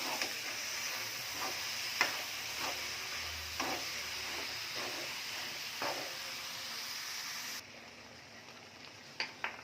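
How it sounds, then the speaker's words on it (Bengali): Goat tripe and intestines fry in rendered fat, a continuous soft sizzle broken by repeated scraping clicks of a utensil stirring the pan, close and without any talking. "চর্বিটা কষানো শেষ, এখন ভুঁড়িটা দিয়ে দেবো।"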